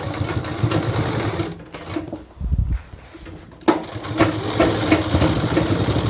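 Shirt collar being stitched on a sewing machine: steady mechanical whirring that stops briefly mid-run, with a short pause and handling noise, then resumes at close range.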